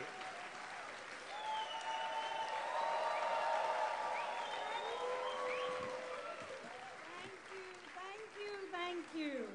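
Forum audience applauding and cheering as a speaker is welcomed, a dense crowd of clapping with voices and a tonal line over it, swelling in the middle and thinning toward the end.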